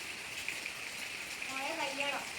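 Steady rain hisses throughout, with a voice briefly speaking near the end.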